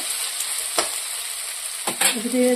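Paneer bhurji frying in a pan on a low flame, with a gentle sizzle broken by a few sharp scraping strokes from a stirring spoon.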